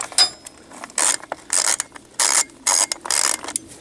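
A hand ratchet loosens the 8mm rear bolts on a Yamaha XT250 motorcycle in quick clicking bursts, close and clear, with short pauses between strokes.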